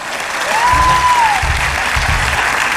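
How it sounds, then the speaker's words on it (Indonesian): A studio audience on an Indonesian television talk show applauds loudly and steadily. A single sustained electronic tone and a few low thumps show through the clapping. "Tepuk tangan."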